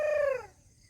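A single drawn-out chicken call, loud and close, falling in pitch and fading out over less than a second.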